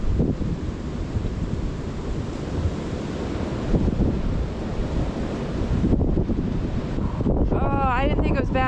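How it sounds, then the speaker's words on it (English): Strong blizzard wind on an Illinois farm roars and buffets the microphone in a loud, continuous rush, with a voice briefly heard near the end. "Dangerous wind."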